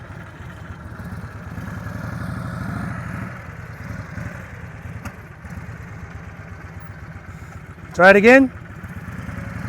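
A motorcycle engine idles roughly during an outdoor riding lesson, its throttle blipped up and down as it nearly stalls. The engine stays low and steady in the background, and a voice speaks briefly near the end.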